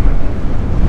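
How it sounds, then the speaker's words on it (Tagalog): Steady, strong wind buffets the microphone during a motorcycle ride toward Tagaytay, a dense low rumble with no other clear sounds. "lakas ng hangin"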